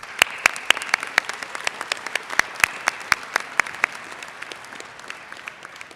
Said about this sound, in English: give our Dragon ambassadors just a quick round of applause